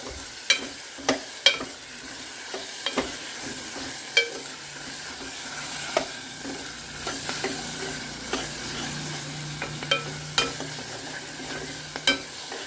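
Vegetable pieces frying in oil for a tamarind curry, a soft continuous sizzle punctuated by repeated clinks and scrapes of a stirring spoon on the pan, near and without speech.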